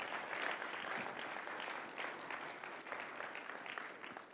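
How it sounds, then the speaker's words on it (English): An audience bursts into warm, sustained applause honoring long-married couples, many hands clapping densely and evenly across the room for several seconds without talk. "let's give all of them a round of applause"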